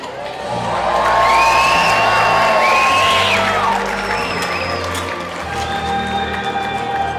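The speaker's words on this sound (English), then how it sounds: "My lords, my ladies, raise a cheer and honor this true horseman" Crowd at a Medieval Times dinner tournament cheers and whoops loudly, a broad roar of many voices with individual shouts rising above, easing slightly before continuing.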